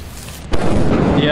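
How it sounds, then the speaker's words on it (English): A sudden, loud thunderclap from lightning in a video game storm cracks and then rumbles on in a broad, booming roll. "Getting lightning immediately."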